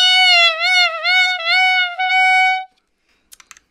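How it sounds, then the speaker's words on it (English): A clarinet taken apart to just its upper section gives a thin, nasal held tone that wavers in pitch for a few seconds and then stops. A few faint clicks follow. "when you take the clarinet apart like this, it makes a funny little noise"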